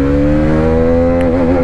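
Hero Karizma XMR 210 motorcycle engine revving hard in a steady, loud drone, its pitch climbing slightly toward the end, close by with no talk.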